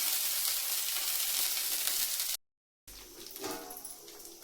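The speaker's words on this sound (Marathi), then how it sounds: "थालीपीठ बनलेलं आहे आपलं पलटी मारायची बाकी आहे" Thalipeeth flatbread sizzles and fries steadily in a hot pan, a continuous close hiss that cuts out briefly to silence before resuming with some clatter.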